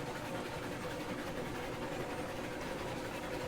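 A steam locomotive in Railroads Online, the railroad video game, runs with its regulator at half, producing a steady, even mechanical rumble and hiss throughout, with no talking.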